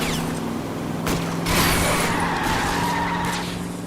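A car skids with squealing tires during a chase in the video game L.A. Noire, a loud, close screech that swells midway over a steady engine drone.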